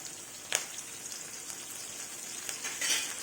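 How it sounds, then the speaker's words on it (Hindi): Green chillies and curry leaves sizzling in hot oil while making makai chivda: a soft, steady frying hiss broken by a few sharp crackles and spits. "अब हम इसमें हरी मिर्च डाल देंगे और कड़ी पत्ता"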